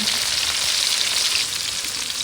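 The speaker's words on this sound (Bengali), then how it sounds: "এখন হচ্ছে পেঁয়াজ কুচিটা দিয়ে দিচ্ছে" Chopped onion hits oil in a pan of frying potatoes, producing a loud, steady, bright sizzle that holds evenly throughout without any voices.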